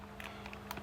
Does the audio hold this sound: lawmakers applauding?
no